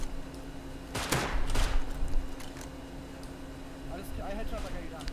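Gunfire in an online video game shooter, a couple of loud bursts early on and fainter shots later, with a player's voice talking over the game sounds.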